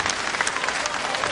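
Steady applause from a wrestling crowd fills the whole moment, dense and continuous clapping with no break, at a televised British professional bout.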